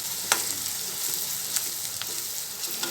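Clam masala sizzling and frying in a pan while being stirred, a steady bright hiss with a few sharp scraping clicks from the spoon, close and moderately loud, no voices.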